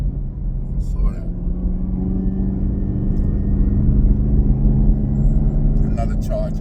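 A Dodge Charger drives past on a road with a loud, steady engine rumble that swells as it nears. People talk over the sound.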